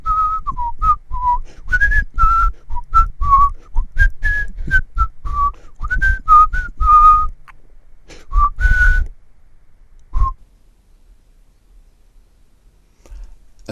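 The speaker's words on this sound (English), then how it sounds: "I'll be whistling too as I walk past" A person whistles a lively, wandering tune of short melodic phrases while strolling past, loud and close for about nine seconds, then a single brief note before near-silence.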